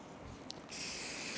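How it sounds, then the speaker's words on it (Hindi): A can of hair shine spray gives a soft click and then a steady, close hiss for the last half second while a hairstyle is being finished, with no talk over it. "शाइन स्प्रे करें पहले तो शाइनिंग के लिए फ्रिज कंट्रोल के लिए"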